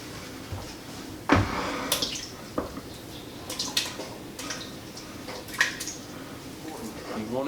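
Cubes of pork belly fat for Cajun cracklins drop into a pot one after another, making a run of close, uneven thumps, clatters and wet plops.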